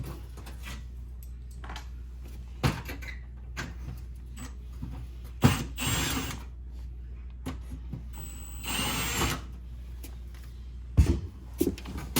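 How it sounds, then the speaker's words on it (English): A power drill backs out Phillips screws from the trim piece of a Whirlpool oven, with two short motor whirs about a second each, separated by quiet handling clicks and knocks. "we're going to take these two Phillips screws out of here"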